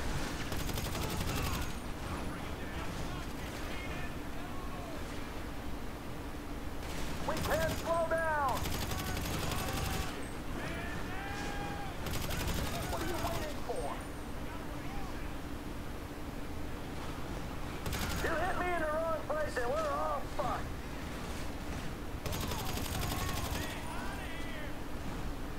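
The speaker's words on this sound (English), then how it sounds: "they gonna make me do all the shooting, eh?" Gunfire in the video game GTA V comes in intermittent bursts of rapid shots over a steady background hum, with louder clusters around the middle and later, under occasional talk.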